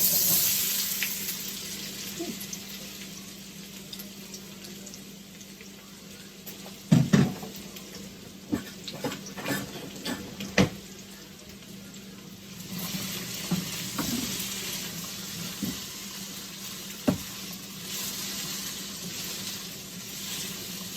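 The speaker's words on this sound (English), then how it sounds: "Gonna go throw them in the oil" Potatoes for home fries frying in hot oil give a steady loud sizzle that runs throughout, broken by occasional clatters and stirring knocks, with no voices.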